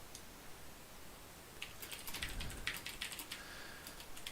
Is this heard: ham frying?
no